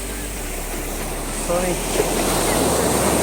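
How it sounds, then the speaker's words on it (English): Strong ocean waves breaking on an Arabian Sea beach in Kerala, a steady broadband wash of surf with wind buffeting the microphone, continuous and fairly loud, with faint voices in the background. "So that wave is very strong. You can hear that sound, right? The waves."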